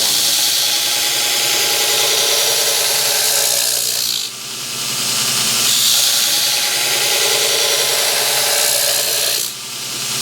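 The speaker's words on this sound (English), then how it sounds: "you're just going to gently push the knife into the jig and grind across" A grinder works a knife blade held in a jig, a loud continuous abrasive whine with two brief dips where the blade is lifted and passed across again.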